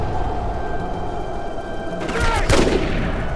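A sniper rifle shot fires in the video game Rogue Warrior, a sharp broadband burst about two and a half seconds in, trailing into a brief rumbling tail over steady game ambience.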